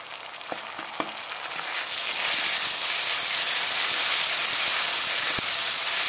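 Chili paste and spices frying in a pan of oil for a small-fish and tomato curry, a few faint clinks early on before a loud, steady hiss and sizzle takes over and holds to the end.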